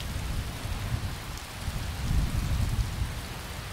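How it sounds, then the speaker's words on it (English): Steady rain patters and hisses over a low rumble, with no voices, a constant wash of noise, in the video game Skyrim Special Edition. "It's been raining a lot."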